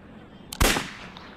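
A single sharp gunshot cracks out in a shooting video game, a brief loud blast that quickly trails away against a quiet background.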